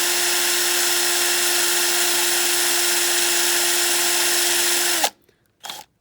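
A power drill bores into a post on a Matchbox Speedkings K24 Lamborghini Miura diecast car under restoration, giving a steady, close whine for about five seconds before stopping, followed by one brief short burst.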